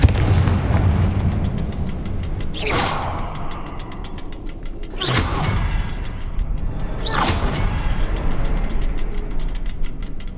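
Confringo blast spells in Hogwarts Legacy: three loud whooshing explosive bursts, evenly spaced about two seconds apart, over a constant rumbling game background.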